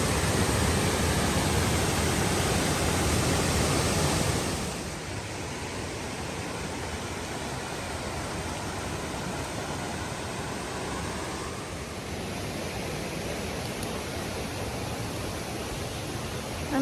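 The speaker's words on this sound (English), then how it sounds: "Wow, these falls are huge." A huge waterfall roars on a wilderness trail as a steady, dense rush of broadband white water, loudest and closest for the first few seconds, then a little softer but still unbroken to the end.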